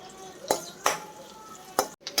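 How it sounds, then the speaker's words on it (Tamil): Finely chopped onion sautés over medium heat in a pan, a soft sizzle broken by four or five distinct scrapes and clinks of a spoon stirring against the metal. "ஒரே வெங்காயம், மீடியமில் வச்சு கொஞ்சம் நல்லா வதங்கட்டும்"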